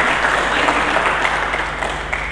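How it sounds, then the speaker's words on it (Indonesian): Congregation clapping together in a church service, a continuous crowd applause over a steady low electrical hum, gradually tapering toward the end. "Mari kita berikan tepuk tangan."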